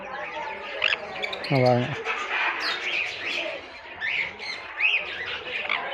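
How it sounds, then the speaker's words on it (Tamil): Many kinds of small birds chirp, tweet and squawk inside a park aviary cage at Yelagiri, busy overlapping calls near and far, with a person talking over them. "Different types of birds."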